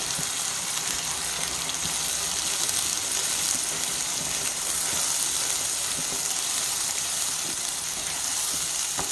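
Freshly ground raw masala paste sautéing in oil for an egg gravy, giving a steady, close hiss and sizzle that runs unbroken throughout with no talking.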